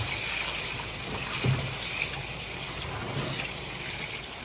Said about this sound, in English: this is me washing the rice with water, hot water, and with my colander